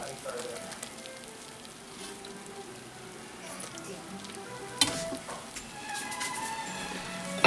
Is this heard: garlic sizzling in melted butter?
yes